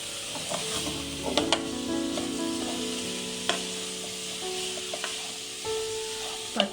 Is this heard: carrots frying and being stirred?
yes